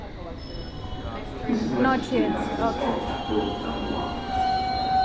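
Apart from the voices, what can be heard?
train arriving at a London station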